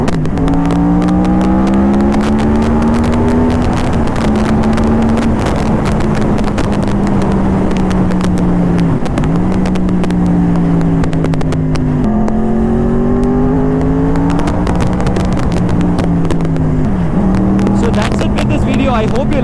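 A Yamaha R1 cross-plane motorcycle fitted with a Toce exhaust revs loudly and close up, its engine note rising and falling in repeated throttle sweeps that dip and climb again over a continuous rumble.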